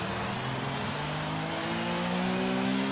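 A race car in a German Grand Prix racing game drones past at steady speed, its mid-pitched engine note rising slightly as it holds a constant, moderately loud hum throughout.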